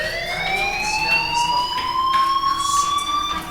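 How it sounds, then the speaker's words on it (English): A fire alarm sounds in a video game, a loud continuous rising electronic siren tone sweeping upward steadily throughout, with no talking over it. "Hey, do you hear that fire alarm?"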